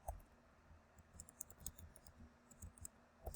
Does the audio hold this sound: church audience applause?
no